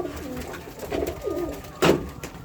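Pigeons in a loft coo in soft, repeated low calls, close by, with a brief flutter or louder burst near the end and no talk.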